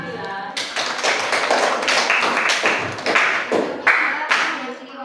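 A classroom group of students claps for a presenting student group, a dense, steady patter of many hands lasting several seconds, close and fairly loud, with a brief quieter moment before it swells.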